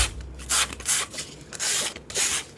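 Sandpaper rubbed by hand in repeated strokes, five or six loud rasping bursts with short pauses between, close and alone without talk.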